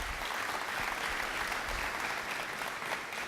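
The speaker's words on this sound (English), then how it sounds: "So please give yourselves a round of applause." A community audience gives itself a round of applause, with continuous, fairly faint clapping from a crowd heard at a distance, holding at an even level throughout.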